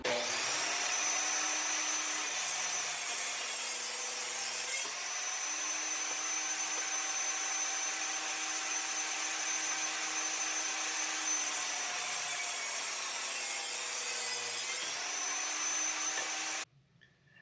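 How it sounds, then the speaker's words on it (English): A power saw rips a thin sliver off the edge of a wooden board in a workshop, a loud, sustained whine that dips slightly under load mid-cut and stops abruptly near the end, with no talking. "I'm just going to make an edge, cut off just a sliver to get this square enough."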